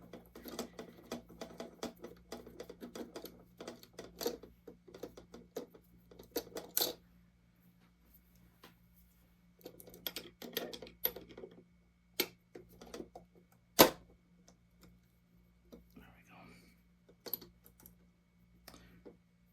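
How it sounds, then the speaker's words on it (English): Screws being undone on the side of a melted toy train: sparse small metallic ticks, clicks and light taps, close and quiet, coming in irregular bursts separated by near-silent pauses. "we gotta undo these screws. On the side."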